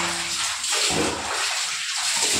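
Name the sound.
water poured over the body while bathing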